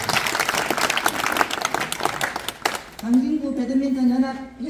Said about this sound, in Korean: 박수 한번 다시 주세요.